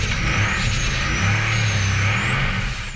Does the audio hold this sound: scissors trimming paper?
no